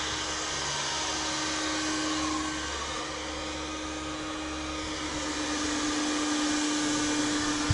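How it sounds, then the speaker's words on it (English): Two heat guns blow steadily on a recycled composite plastic capping rail being softened to bend around a boat's bow, a constant close whirring hum and airy rush with no voices. "We got an even better result by using 2 heat guns on the plastic."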